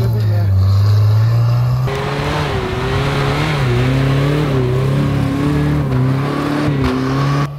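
A car engine revving hard while driving off-road in a comparison of a Niva, Renault Duster, UAZ Bukhanka, Patriot, Suzuki and Nissan, loud and close with a steady droning pitch that rises and wavers under strain, no talk.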